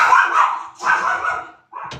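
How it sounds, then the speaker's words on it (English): A dog barks close by in a few loud, drawn-out, whiny barks with short gaps between them, at a live-streamed event. "Doggy."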